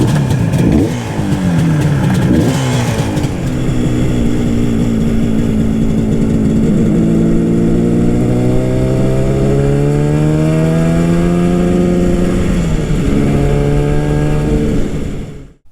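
A Yamaha R3 sport motorcycle rides past and revs hard, its engine note rising and falling through the gears in a loud, continuous snarl close to the microphone, with no one talking.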